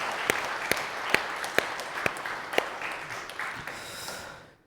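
A church congregation applauds steadily, with a few sharp, distinct claps standing out over the dense clapping before it fades away at the end.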